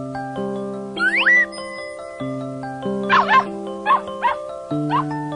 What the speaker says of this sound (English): Yip, yip, yip, they barked.